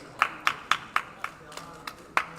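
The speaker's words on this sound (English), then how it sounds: "let's give them one more round of applause for that" Sparse applause at a school cycling esports and freestyle skills cup final, a handful of distinct claps in a loose, slightly uneven rhythm, moderately close and alone.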